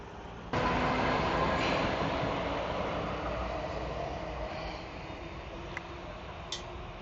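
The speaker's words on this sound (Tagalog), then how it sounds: "The train is coming." A train pulls into a station, a steady loud rumble and rolling rattle starting abruptly and holding close, easing slightly toward the end with a couple of faint high squeaks or clicks.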